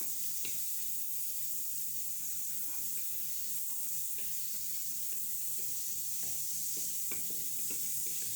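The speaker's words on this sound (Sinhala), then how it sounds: "ඒක රත් වෙනකොට මම ඒකට බටර් මේස හැඳි 3ක් දාගන්නවා." Butter sizzles steadily in a heated pressure cooker on the stove for chicken biryani, a constant broadband hiss with faint clicks and light clatter, no talking.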